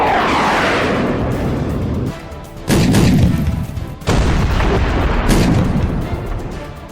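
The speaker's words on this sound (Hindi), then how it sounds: "सीरिया में 100 से ज्यादा जगहों पर अमेरिका ने भारी बमबारी की है।" Heavy explosions from US fighter-jet bombing in Syria: several deep, loud booms with rumbling tails, the strongest bursts landing near the three- and four-second marks, with no voices.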